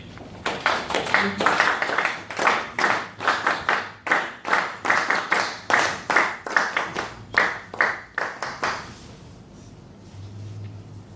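Rhythmic, unison clapping from a Toastmasters audience welcoming a speaker, a steady run of sharp hand claps close by that stops near the end, leaving quiet room tone.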